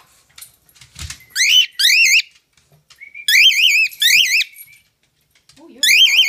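A cockatiel screeches loudly in repeated shrill, warbling bursts, about five calls spaced over several seconds, with a voice speaking briefly between them.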